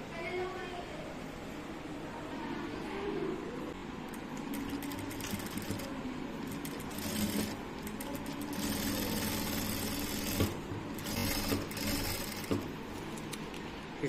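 Sewing machine running steady stitches along the left side of a shirt front placket, a continuous mechanical whir with brief pauses, with a person talking over it throughout.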